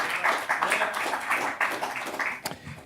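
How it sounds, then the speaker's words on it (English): An audience at a panel talk applauds an invited guest with dense, continuous clapping for about three seconds before it thins out. "Please clap for Bertram."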